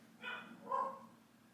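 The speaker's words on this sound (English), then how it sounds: "there's Sasha barking." A pet dog named Sasha barks twice indoors at moderate distance, two short voiced barks about half a second apart over a quiet room background.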